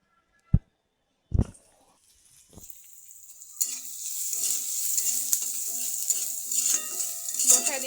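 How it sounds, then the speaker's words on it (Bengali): Onions frying in oil in a karahi, stirred: a few sharp knocks, then a steady close sizzle with rhythmic scraping strokes running underneath. "বসায় দিলাম পেঁয়াজ ও তেল"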